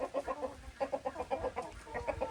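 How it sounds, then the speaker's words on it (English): A female farm goose gives quick, rhythmic honking calls in short bursts, fairly faint and close, with no talking. "This goose is so sweet."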